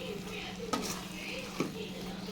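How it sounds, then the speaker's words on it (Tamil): Mushrooms and masala being sautéed in a pan, with a steady low sizzle and two sharp clinks of a stirring utensil against the pan, no talking. "மசாலாவும் மஷ்ரூமும் நல்லா ஒரு அஞ்சு நிமிஷம் போட்டு வதக்கி விட்டுக்கோங்க"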